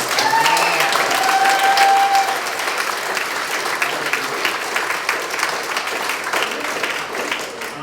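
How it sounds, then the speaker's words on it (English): Warm, full applause at the grand opening of an arts space, a crowd clapping steadily with some cheering mixed in, loudest at first and then settling into an even patter. "So here's a big round of applause"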